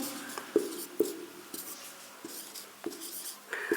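Pen writing out a maths solution for an arithmetic progressions exercise: soft scratching strokes broken by several distinct taps, close and moderately quiet, with no speech.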